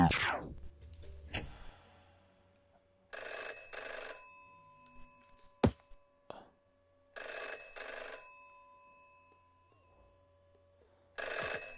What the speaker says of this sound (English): The stapler's ringing.